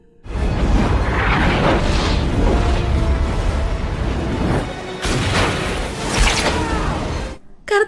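Loud, continuous roaring blast as the shark is blown up in the film Deep Blue Sea, sustained rumble and debris for several seconds, a brief dip then a second surge before cutting off abruptly.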